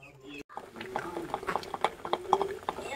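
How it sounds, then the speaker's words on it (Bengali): Leftover biryani bubbles and pops as it is reheated in a home kitchen, a steady run of close, irregular burbling with a brief break near the start. "বিরিয়ানি টকবক করে ফুটছে।"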